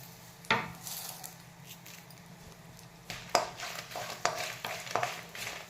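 Curry leaves dropped into hot oil with fried chillies in a pan, soft sizzling under a series of sharp scraping and clinking stirs of utensil against pan.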